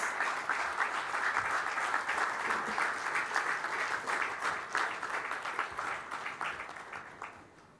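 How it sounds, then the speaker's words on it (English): At the 2017 AIMA JRD Tata Corporate Leadership Award ceremony, a large audience bursts into loud, dense applause for India's Vice President, the clapping holding steady before gradually thinning toward the end. "Please welcome him with a huge round of applause."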